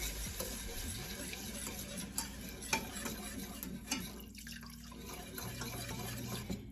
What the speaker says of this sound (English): I'm gonna stir this until it starts to thicken.